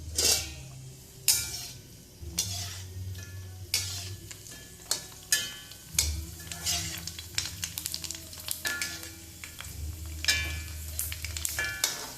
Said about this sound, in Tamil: இந்த மாதிரி பொரிச்சு எடுத்து வச்சுக்கோங்க எல்லாத்தையும்